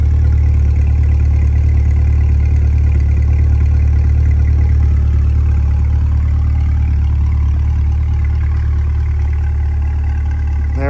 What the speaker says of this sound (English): nice chug or rumble here to the exhaust.